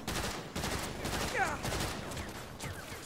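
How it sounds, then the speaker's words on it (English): Turret gunfire in the video game Saints Row (2022), a dense, continuous rattle of shots running the whole moment at steady loudness, with a sharper burst near the middle. "Buggy-ass turret."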